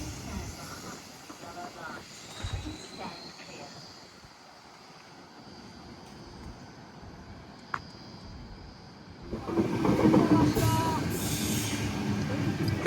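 A Sydney Trains T9 set passes Allawah Station on the T4 line, its rumble and hiss swelling loudly near the end after a quieter stretch of distant rail noise, with brief clanks along the way.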